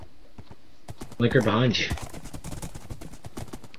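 Horse hooves clip-clop in a multiplayer survival game as a rider moves along, a quick, steady run of sharp, close hoof taps under a voice speaking briefly.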